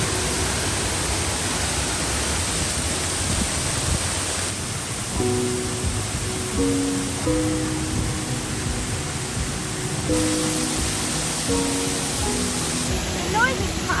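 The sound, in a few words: powerful waterfall roar heard from behind the falls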